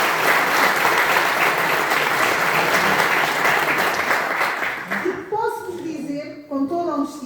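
Applause from an audience at a closing ceremony, a dense steady clatter for about five seconds that thins out as a voice starts speaking over its fading end.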